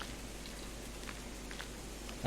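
Soft rain falls steadily in a video game forest, a faint even patter with no voices.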